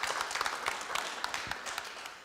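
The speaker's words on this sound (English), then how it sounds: "I want to give him a round of applause" An audience at a city council meeting in Fresno claps in a short, thin round of applause. The scattered individual claps are fairly faint and fade slightly toward the end.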